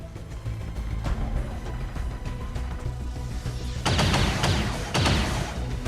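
Gunfire in the video game X-COM 2: a loud burst of rapid shots near the end, with scattered impact and action noises before it.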